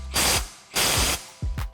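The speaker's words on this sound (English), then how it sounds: "So when we're tightening the upper bushings down" A ratchet tightens the upper bushing nut on a coilover being fitted to a 1978–1996 Chevy Impala, heard as three harsh, close bursts of rapid clicking with brief pauses between strokes.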